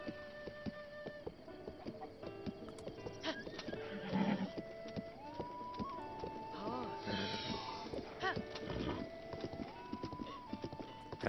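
Hooves clop in a steady galloping rhythm while a horse neighs and snorts, layered over soft game music in The Legend of Zelda: Breath of the Wild.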